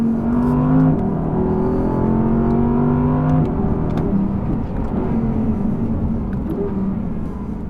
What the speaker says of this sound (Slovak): A to je vďaka atmosférickému motoru. On má ten mechanický zvuk, je to vlastne taká píla.